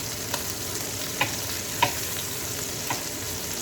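Chopped chicken frying in a pan, a dense, even sizzle with a few light clicks from stirring, close up and steady throughout.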